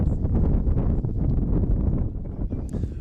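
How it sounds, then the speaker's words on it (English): Strong wind gusting at 18 to 26 miles per hour, into the 30s, at an outdoor high school baseball game. It buffets the microphone as a steady, loud, rough roar with no clear breaks. "Wind continues to blow"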